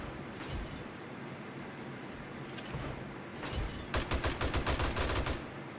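Gunfire in the video game 7 Days to Die: scattered shots early on, then a dense rapid burst of repeated cracks near the end over a steady background rumble, with no talking.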